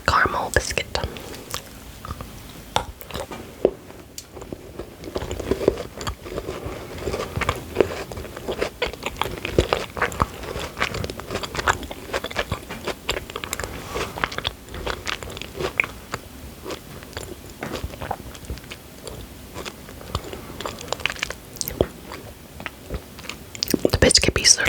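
Someone bites into and slowly chews a Tony's milk caramel biscuit chocolate bar close to the microphone. Crisp snaps give way to repeated soft, wet crunching under intermittent whispering.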